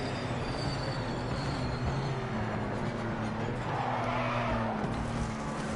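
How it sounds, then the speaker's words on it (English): Race car tires squealing in the Project Motor Racing video game, a steady broadband screech layered over a continuous engine drone and rolling road noise, loud and unbroken, with no talking. "I do like that you can hear the tires."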